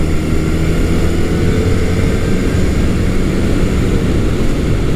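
Honda CB400 T Hawk (400 Super Dream) motorcycle engine revving cleanly above 5,000 RPM, a loud continuous droning roar under heavy wind rush, steady throughout with no speech.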